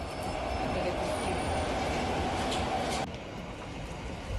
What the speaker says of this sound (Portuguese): Olha lá o trem passando